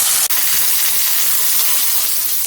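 Mustard seeds, cumin and curry leaves frying in hot oil, a loud continuous hissing sizzle with a single sharp pop early on, no voices.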